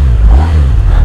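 BMW R 1250 RS boxer-twin sport-touring motorcycle engine firing up and revving, a loud, close, low-pitched throbbing burst that holds steady through a short moment.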